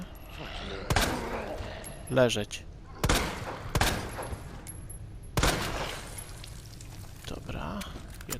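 Several loud, sharp gunshots in Resident Evil 2 ring out at irregular intervals, with a few softer pops and a brief spoken word between them.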